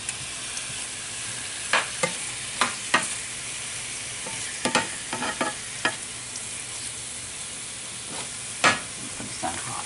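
Beef strips searing in a hot pan for stroganoff give a steady close sizzle, broken by several sharp scrapes and stirs of a utensil against the pan, with no talking.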